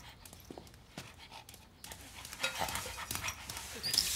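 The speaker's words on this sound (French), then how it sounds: "Tu bouges plus, le chien." A dog pants rapidly at close range in a cartoon scene, quick breathy huffs in a steady rhythm with light rustling, ending in a brief bright squeak.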